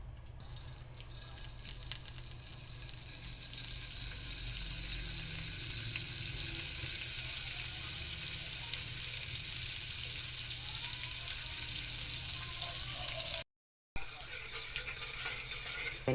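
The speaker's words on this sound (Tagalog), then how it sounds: "Painit muna tayo ng kalay mga idol at ilagay natin itong margarine." Margarine melts in a hot pan on the stove, giving a steady soft crackling sizzle that runs continuously and close for about fifteen seconds with a brief dropout near the end.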